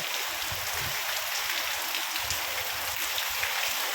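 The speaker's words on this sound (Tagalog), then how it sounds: "Ang lakas ng ulan dito." Heavy rain pouring steadily, a constant dense hiss of drops striking surfaces with no pauses and no voices.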